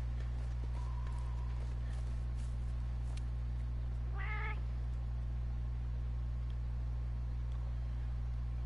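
A single brief cat meow from Monster Hunter World, rising and wavering, stands out over a steady loud low hum and game ambience.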